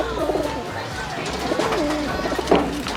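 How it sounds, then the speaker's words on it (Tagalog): Pigeons in a loft on their third day of viewing, soft cooing calls at close range under a low steady hum, with a person talking over them. "Ayan, day 3 na nila pag-viewing mga kalapatids."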